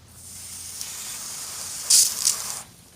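A soft, steady hiss of water spraying from a hose nozzle onto an air conditioning condenser rises to a brief louder burst near the end, then drops back, close with no voices.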